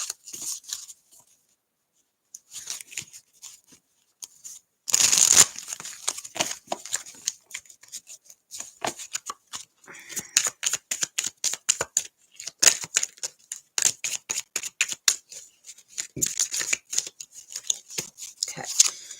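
Rapid, crisp tarot card riffles and slaps come in repeated bursts, close and fairly loud, with a sharp flurry partway through and brief pauses between shuffles.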